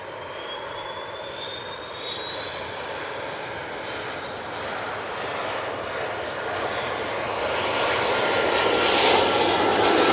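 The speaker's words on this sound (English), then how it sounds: "Next in, we have the KLM's Embraer 175 coming in from Amsterdam Schiphol." KLM Embraer 175 jet arriving at Manchester from Amsterdam Schiphol, a steady roar with a high whining engine tone that climbs as the jet nears and grows louder toward the end; no speech.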